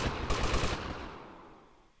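A rapid burst of gunfire in GTA Vice City, loud and close, rattling for under a second before trailing off into a fading echo.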